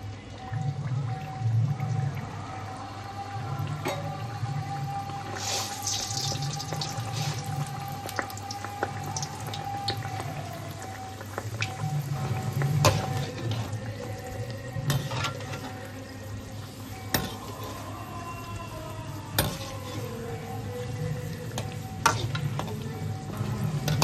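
Dhakai paratha fries in hot oil in a wok at a Kolkata street food stall, a steady close sizzle broken by scattered spatters and the clatter of stirring or flipping, with no talking.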